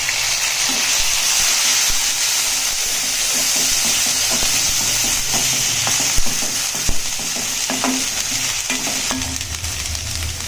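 Onions frying with ginger-garlic paste in a pan for Punjabi-style chana dal, a steady close sizzle with scattered scraping stirs and clicks, no talking.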